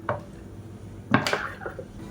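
A kadai pan being picked up and set on a kitchen stove, with two clattering metallic knocks a second apart, the second louder and followed by a short scraping rattle.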